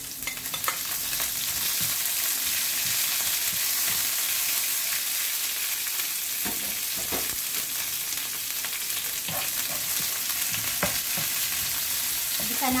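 Chili and spring onion sautéing in a hot pan for a clam dish, a steady loud sizzle with occasional stirring scrapes and crackles throughout, no talking.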